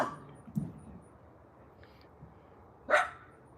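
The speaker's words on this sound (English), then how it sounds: "it's got the dogs stirred up because they don't know what's going on because they can't see that far because of the fence" Dogs barking behind a fence, with a few separate barks spaced apart, a sharp louder one near the end, over a quiet outdoor background.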